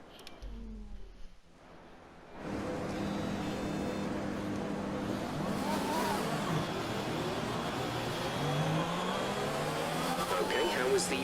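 An F1 2020 racing car pulls away at the start of the Spanish Grand Prix. Its engine roars in loud, rising revs that hold steady after a quieter opening, with a voice talking alongside.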